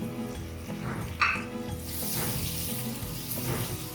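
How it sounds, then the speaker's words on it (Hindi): Whole cumin, garlic-ginger paste and tomatoes sizzle steadily in a pan while being stirred for a bhindi curry, a continuous close frying hiss with occasional scraping, no talk. "साबुत जीरा, लहसुन अदरक का पेस्ट और टमाटर डाल के हमें इसको चलाना है।"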